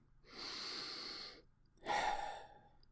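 One deep breath, a long audible inhale lasting about a second, a short pause, then a shorter, stronger exhale, close and clear in a quiet room.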